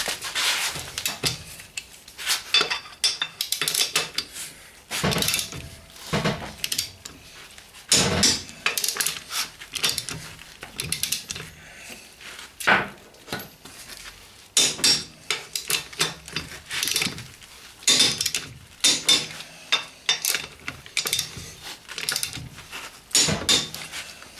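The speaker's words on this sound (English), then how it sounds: "And now fastening the bolts with a torque of 112 Newton meters." Repeated sharp mechanical bursts and clattering from fastening brake bolts on an Opel Corsa D to 112 Newton meters during a Brembo brake disc replacement, coming in irregular clusters close by, with short pauses between them.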